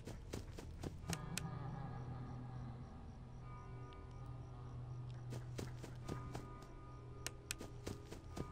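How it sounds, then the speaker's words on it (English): Soft, steady footsteps pad along in the horror video game Five Nights at Freddy's 4, faint and continuous under a low ambient hum, with a few sharp ticks scattered through. "I heard footsteps."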